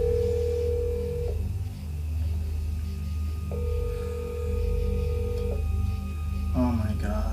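A telephone ringing at a campsite, its steady electronic tone repeating in long bursts over a constant low hum, ending with a brief clatter.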